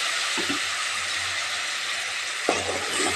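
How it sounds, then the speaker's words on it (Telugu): Onions and green chillies fry in a pan with a steady, loud broadband sizzle, broken by two brief stirring scrapes, no voices over it. "ఆనియన్ పచ్చిమిరపకాయలు ఫ్రై అయినాయి"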